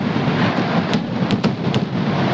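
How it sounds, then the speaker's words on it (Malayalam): Fireworks at a Pooram temple festival in Kerala, heard as a dense, continuous rumble with several sharper cracks and bangs bursting through, loud and booming in open air. "7 മണിക്ക് വെടിക്കെട്ടെന്ന് പറഞ്ഞിട്ട് ഞങ്ങളത് തിരിച്ചു വന്നു"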